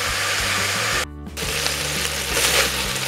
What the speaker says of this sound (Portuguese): Agora vamos deixar ela fritar um pouquinho